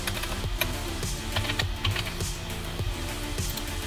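Keys tapped on a computer keyboard while text is entered, a fairly close, steady run of clicks with irregular rhythm and no voices.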